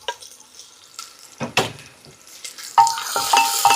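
Green chili and ginger are tossed in a hot pan while making a vegetable curry. Scattered scraping stirs and clatters come through close and moderately loud, and the frying grows livelier toward the end, with no voices.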